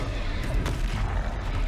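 A Confringo spell explosion in the video game Hogwarts Legacy erupts as a heavy, rumbling boom with a broad crackling blast, loud and close, decaying over roughly a second and a half.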